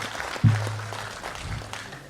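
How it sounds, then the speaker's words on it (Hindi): Faint, diffuse applause from a mushaira audience in Jaipur greets the poet Manzar Bhopali, a soft crowd patter under a low hum with one dull thump near the start. "अब एक बार जोरदार तालियां ताकि वो पढ़ सकें"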